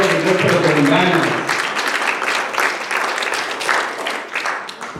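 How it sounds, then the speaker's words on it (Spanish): Congregation in a church service claps for the Lord, a dense, sustained round of applause lasting about five seconds; a voice speaks over the first second, then the clapping continues steadily and fades slightly toward the end. "denle un aplauso al Señor, pero con ganas"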